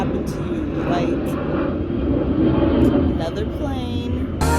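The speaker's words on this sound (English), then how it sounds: "another plane." An airplane passes overhead with a loud, steady engine roar that fills the whole stretch and swells slightly in the middle.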